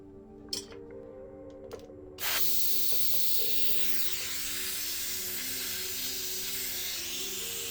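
Compressed air hisses loudly from a leaking hose fitting on a Phoenix Version 2 IGL. A few light clicks come first, then a sudden, steady, close-up hiss that runs unbroken to the end.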